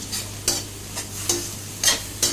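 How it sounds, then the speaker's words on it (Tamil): Tomato sauce mixture being stirred in a hot pan while making hotel-style fried rice: a steady sizzle with four or five sharp scraping strokes of the spoon at regular intervals, close and fairly loud, no talk. "இப்போ வந்து நல்லா கலந்து விட்டுருவோம்."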